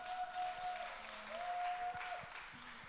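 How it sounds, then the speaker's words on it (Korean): Steady applause from a church youth service congregation during an award presentation, a continuous wash of clapping lasting the whole clip, with a faint sustained tone ringing underneath. "박수로 환영 부탁드립니다"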